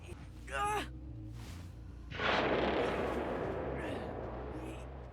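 A sudden loud whooshing burst swells up and slowly fades as a corrupted fountain is cleansed, preceded by a short rising chime-like effect in a game soundscape.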